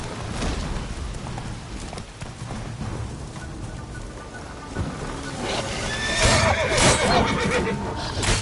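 Horse in The Witcher 3 whinnying over a steady run of hoofbeats, the neigh rising louder near the end against continuous game ambience.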